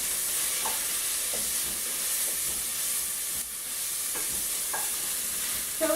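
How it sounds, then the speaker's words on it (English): Indian-style keto slaw of cabbage frying in a pan, a steady, fairly quiet sizzle with a few soft scrapes of a wooden spoon stirring, no talking. "So we have that frying up,"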